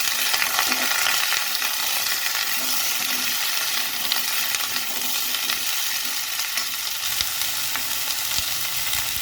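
Vegetables for a murighonto being stirred in a hot frying pan: a constant close sizzle with repeated scraping and clinking of the spatula against the pan, steady and unbroken, no voices.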